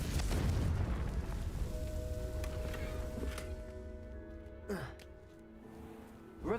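Confringo fire spell blast in Hogwarts Legacy, a loud low booming burst that rumbles and fades over several seconds into quieter game ambience with faint tones and small thumps.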